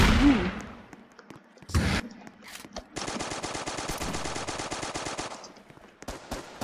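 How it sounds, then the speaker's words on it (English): Gunfire in the video game Strucid: a single opening shot and a short burst, then about two and a half seconds of rapid automatic fire, followed by a few scattered shots, loud and close. "Oh, he was shooting at me."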